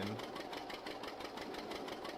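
A tractor engine running in Farming Simulator 22 on a farm, a steady, rhythmic mechanical chugging that stays even and continuous throughout at moderate volume.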